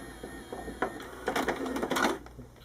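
Mechanical whirring, clicks and clunks from a Pioneer PD-M40 six-disc magazine-style CD changer as its transport moves to disc 5, a short close busy burst of motor and gear noise that fades near the end.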